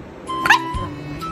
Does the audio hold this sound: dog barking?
yes